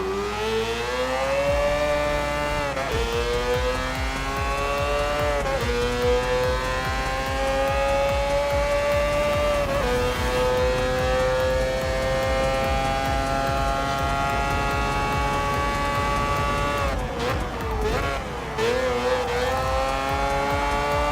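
GT4 race cars in the video game Gran Turismo Sport roar around a circuit, with engine tones rising and falling through gear changes in a loud, continuous drone.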